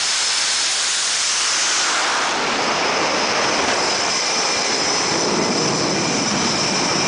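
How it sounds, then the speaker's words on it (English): A FedEx jet takes off, its engines blasting a loud, continuous roaring hiss that swells and holds steady for several seconds, close and overpowering, with no voices. "This guy got blown away by the jet blast by standing behind a jet as it was taking off."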